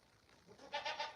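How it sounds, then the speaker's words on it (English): Goats on a ranch bleat three times in quick succession near the end, fairly close and clear, after a quieter stretch of faint background noise; no one speaks. "We have goats, which are definitely noisy."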